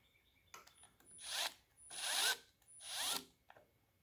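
Three bursts of a power drill boring into a cast-iron Ford FE 390 big-block engine block during crack repair, each lasting under a second with short pauses between, close and fairly loud with a whining bite.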